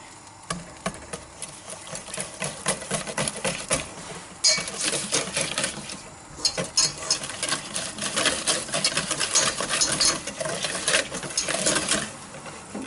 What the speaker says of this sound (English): And you whisk this all together, basically until it thickens up.